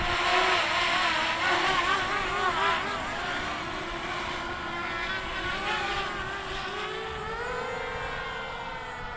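A quadcopter drone on its maiden flight makes a steady, continuous buzzing whine that rises and falls in pitch as it passes by at moderate distance, with faint wind noise and no talk.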